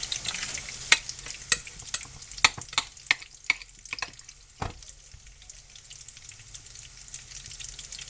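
Tortillas fry in hot oil until crispy for chilaquiles, with a soft crackling sizzle broken by sharp, scattered clicks and taps of a utensil against the pan, close by and moderately quiet.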